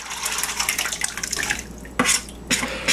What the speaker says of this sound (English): So now she's taking the blended cassava leaf and adding it into the pot.